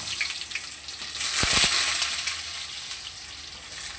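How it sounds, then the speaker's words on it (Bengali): Potatoes dropped into hot oil with onion paste give a sharp burst of sizzling that settles into a steady frying hiss, close and fairly loud with no talk. "এবার আলুগুলোকে দিয়ে দিলাম।"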